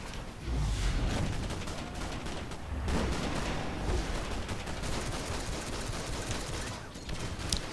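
Rifle gunfire in a first-person shooter video game: dense, loud rapid shots and bursts rattling continuously for several seconds, with heavier booms mixed in.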